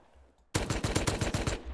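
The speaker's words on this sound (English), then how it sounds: "We're getting shot." Automatic gunfire in the survival game Rust breaks a near silence with a sudden loud burst of rapid, evenly spaced shots that continues to the end.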